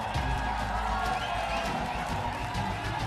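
Studio audience of blue-team fans in the stands at a judo-themed TV show, roaring and cheering as a steady, full crowd din that stays level throughout.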